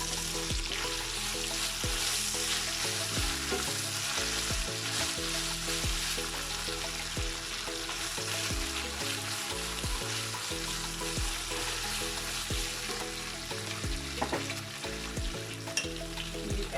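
Onions, ginger and garlic fry steadily in a pan for a chickpea and paneer biryani, a continuous close sizzle with stirring scrapes, no talking.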